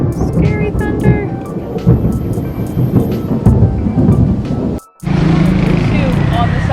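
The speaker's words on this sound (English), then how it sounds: "Scary thunder." Loud thunder rolls over a rainy street in Ubud, Bali, a deep, sustained rumble mixed with rainfall that cuts out sharply for a moment near the end before resuming.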